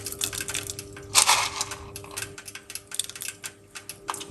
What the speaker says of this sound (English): Right here, this is cloves. Alright, we're gonna put a few grains inside of it.